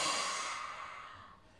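A deep breath drawn during a yoga breathing exercise, a soft airy rush that fades gradually, heard alone and close.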